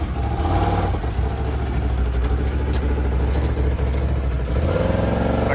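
A Can-Am Renegade 1000 ATV engine runs loud and close, a rough steady idle with slight surges and a rise in revs near the end; no talk over it.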